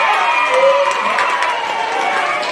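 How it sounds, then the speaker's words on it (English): Children at an elementary school assembly cheer together, a dense, sustained roar of young voices filling the hall at steady loudness for a few seconds. "That was a big cheer."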